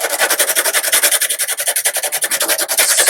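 A stick of soft 3B charcoal is scrubbed back and forth on sandpaper in a steady, rapid rhythm, a loud close rasping sound with no talking.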